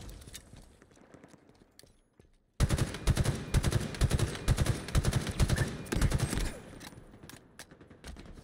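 Rapid bursts of gunfire from Halo Infinite multiplayer on a Mountain Dew map: a quieter spell, then a loud, dense stretch of overlapping automatic shots for several seconds, tapering to scattered softer fire.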